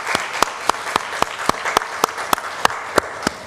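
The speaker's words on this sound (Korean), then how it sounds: "우리 함께 영광의 박수를 하겠습니다" A church congregation at a Sunday service applauds to give glory to God, steady crowd clapping with loud periodic accents, filling the room without any talk.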